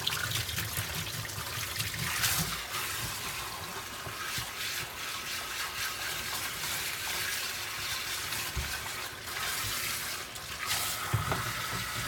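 Water runs steadily from a tap while dyed bell-bottom fabric is rinsed, a soft continuous splashing trickle at moderate distance with occasional louder splashes and no talking.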